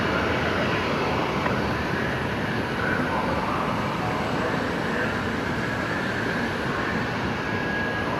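An airliner turning onto final approach at Brisbane Airport, heard as a steady, broad jet roar that holds even and unbroken throughout, with no voices.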